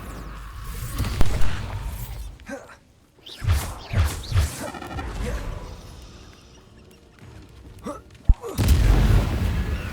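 Explosive spell blasts and magical impacts in the fantasy game Hogwarts Legacy come as several booming hits with crashes between them, under a game score and effects, and a player calls out spells.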